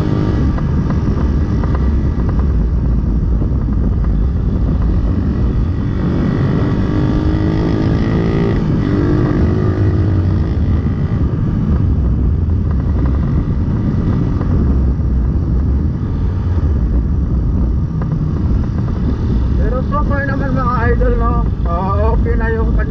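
A Raider 150 motorcycle with a new 28mm carburetor runs loudly and steadily nearby, its engine rising and falling in rev, while someone talks briefly toward the end.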